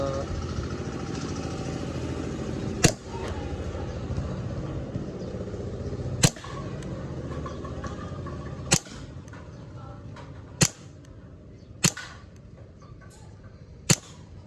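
A Tokyo Marui Hi-Capa STI Open airsoft pistol fires 0.25g BBs at targets outdoors: six sharp, isolated snapping shots spaced a second or more apart, heard over a constant background rumble with no speech.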